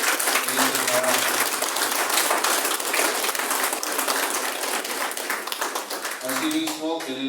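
Applause from a congregation during a Mass honoring the Virgin of Carmen, dense sustained clapping filling the room for several seconds, with voices underneath near the end.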